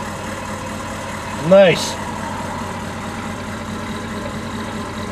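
A 6.5 liter turbo diesel truck engine idles with a steady low rumble throughout, and someone briefly speaks over it partway through.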